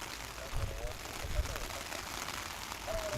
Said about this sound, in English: the sound of the rain beating down onto our shelter, like our little half tent fishing shelter